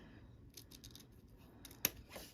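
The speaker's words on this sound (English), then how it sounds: "Let me see if these scissors will cut so it doesn't take me an hour to cut it in half" Scissors cut through book pages, a few soft snips and rustles, close and quiet, ending in one sharp, brighter snip near the end.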